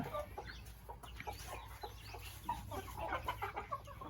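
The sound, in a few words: chickens clucking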